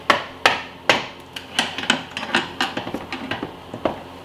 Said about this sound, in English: I'm gonna use my screwdriver as a pry bar.